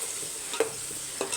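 Tomato, ginger and garlic paste sautéing in a pan for mutton biryani: a soft continuous sizzle with two distinct scraping stirs of a ladle, close and quiet, no talking.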